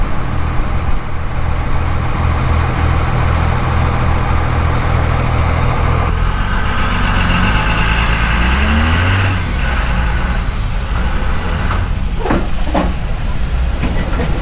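A truck engine idles with a steady low rumble at a muddy outdoor swap meet, just after a tractor has towed a big motorhome free; the drone runs throughout, with a rising engine note midway and a few sharp knocks near the end.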